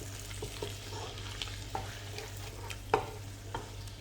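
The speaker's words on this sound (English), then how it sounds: "So I'll give it a good stir." Prawns and sauteed mushrooms stirred in a coconut cream sauce, soft simmering sizzle under a steady hum, with a few spoon taps and scrapes against the pan.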